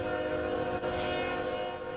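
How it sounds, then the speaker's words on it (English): A train rumbles close by while its horn sounds a long, steady chord over the clatter. "When I hear the trains, I'm always thinking of Clay"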